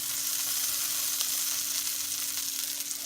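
Tofu sizzles and fries in a pan as teriyaki sauce goes in, a loud, steady crackling hiss that continues throughout without talk.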